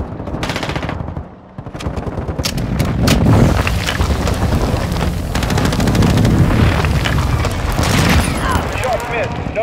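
Call of Duty Modern Warfare 2 gameplay fills with heavy, continuous gunfire and rolling explosion booms from an air strike, loud and dense throughout with game radio chatter mixed in.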